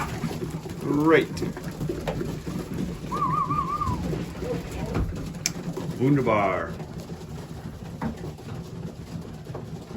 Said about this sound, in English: Another successful day of having pigeons.